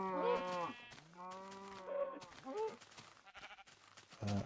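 Minecraft sheep give a run of overlapping wavering bleats, a long drawn call early then shorter ones, close by, with faint scuffling game sounds between them.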